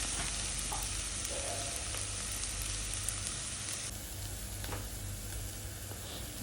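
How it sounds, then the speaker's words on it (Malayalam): Onion sautés in a pan until lightly browned for a bitter gourd curry, producing a steady, even sizzle throughout with a faint stir or two, no voices. "ഒരു ഇലം ബ്രൗൺ ആവുന്നവരെ നമ്മൾ സോട്ട് ചെയ്തെടുക്കും"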